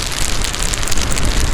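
Loud, dense rain hisses and patters steadily during a rain test of an Inmotion V14 electric unicycle, close and continuous with no voices.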